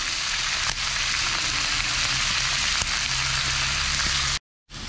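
Potatoes fry in a pan with a loud, steady crackling sizzle that runs continuously before cutting out abruptly near the end.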